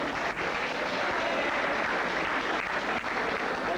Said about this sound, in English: let me ask the class 11 students to give them a round of big applause